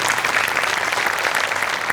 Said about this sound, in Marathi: तुमच्या सगळ्यांसाठी टाळ्या वाजल्या पाहिजेत